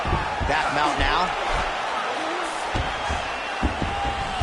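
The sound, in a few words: crowd cheering at a UFC 5 fight, video game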